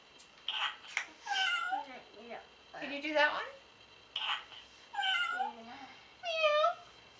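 A child imitates a cat's meows while looking at a black cat in an animal sound book, giving several rising, nasal meows in a row. An adult speaks briefly between them.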